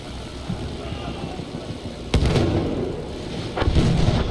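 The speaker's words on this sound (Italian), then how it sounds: "Due bombe lanciate." Bombs dropped from an aircraft bursting in the World War I shooter Battlefield 1, two heavy booming explosions over a constant rumbling battle din.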